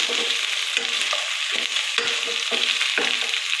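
Okra (bhindi) frying in a pan, a loud close sizzle running throughout, broken by regular stirring scrapes roughly every half second, no voices.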